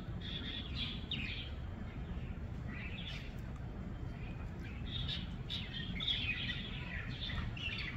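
Sparrows and other small birds chirp in a steady outdoor chorus around tall trees, bright overlapping calls scattered through the clip over a constant low rumble of background noise.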